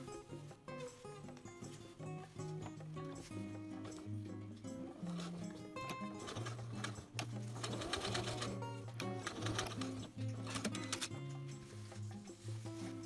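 A sewing machine runs a narrow zigzag stitch along a jeans zipper fly, its rapid steady mechanical hum and ticking continuing in close, even runs with brief changes in pace.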